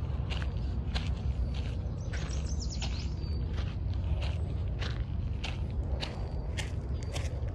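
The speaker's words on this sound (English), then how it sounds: "the birds singing all over the place" Birds chirp and call in short bursts across a park forest, small tweets scattered throughout over a steady low rumble of ambient noise, with footsteps or rustling mixed in and no talking.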